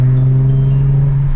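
A steady, loud HR car engine drones at constant pitch with a strong low hum and layered harmonics, sustained without revving changes throughout.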